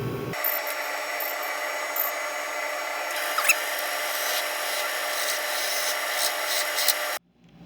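A hollowing tool cuts inside a wooden bowl on a lathe, giving a steady, close scraping whir that runs unbroken for about seven seconds, then stops abruptly.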